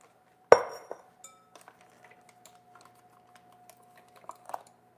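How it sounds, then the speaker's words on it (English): Glass bowls are set down during holiday side-dish prep with chopped pecans: one sharp, ringing clink, then a string of light taps and clicks, and a small cluster of clinks near the end. "Do another glass bowl for y'all."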